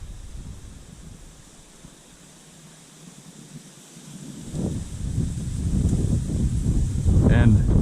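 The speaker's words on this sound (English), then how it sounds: "we're being attacked by the wind" Wind gusting outdoors by lily pads during a fishing trip, low buffeting rumble against the microphone that dips, then strengthens and stays loud toward the end.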